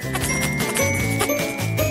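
A cartoon bell rings from inside a wall: a bright tinkling chime with a stepping run of ringing tones, fairly loud and close, with no talking over it.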